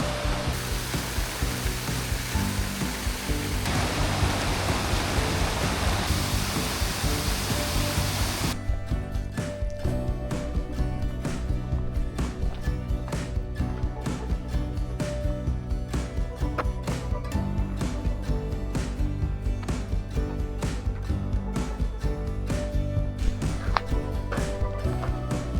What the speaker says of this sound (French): On longe une cascade sur la droite